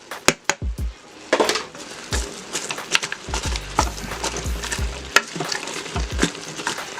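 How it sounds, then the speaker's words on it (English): Onions tumbling into a hot pan of browning ground beef and garlic, then sizzling steadily under repeated scraping stirs and clacks of a utensil against the pan, close and fairly loud. "Alright, we're going to add the onions right in here."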